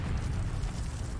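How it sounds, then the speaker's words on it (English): Explosives detonate as a building collapses inward in a war zone, heard as a continuous heavy low rumble sustained at steady loudness without distinct separate blasts. "The explosives go off, and the building literally folds inward."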